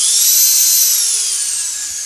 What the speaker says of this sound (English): Turn my Dremel up.